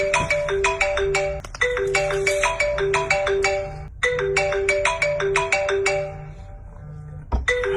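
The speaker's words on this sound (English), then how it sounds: "Before Ghostface attacks anyone, they will first call you, and when he does this is how I answer the phone." A melodic phone ringtone for an incoming call plays loudly and repeatedly, its bright repeating tune cycling several times with short gaps and no talking.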